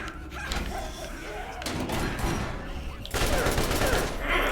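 Launcher weapon fire in the video game Borderlands, heavy booming blasts and thuds in rapid succession amid dense combat noise, loud and close.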